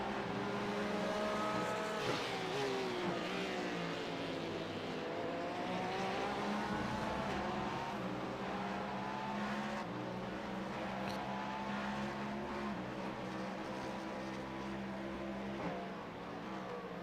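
A race car in the iRacing simulator at Sebring drones steadily at high revs, its engine note rising and falling through gear changes with no pause and no voices.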